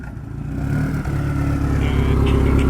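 A 2010 Subaru STI hatchback fitted with a Nameless track exhaust pipe revs in a short blip, its loud, rumbling exhaust note rising and holding near the microphone.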